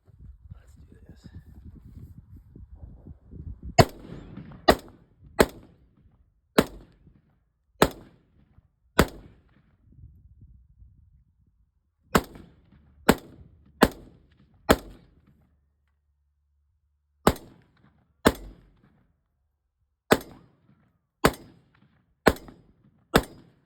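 An AR-15 or AK-47 rifle fires at an outdoor range: about sixteen sharp, loud single shots in uneven groups, each with a short decay, after some low murmured talk at the start.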